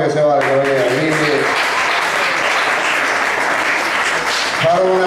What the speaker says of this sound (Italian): applauso, applauso che se va